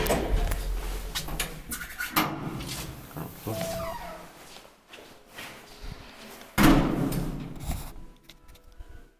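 A mid-1970s Kone V-series traction elevator with green doors and a refurbished cab runs, with scraping and sliding door noise, a clunk and motor hum inside the cab, and a voice talking over it.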